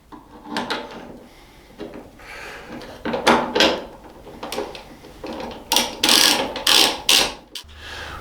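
Metal socket on 13mm motorcycle mounting bolts while a tail tidy is installed on a 2023 CFMOTO 450SR, giving close, irregular clicks, ratcheting and clunks in bursts, louder toward the end, with no talk.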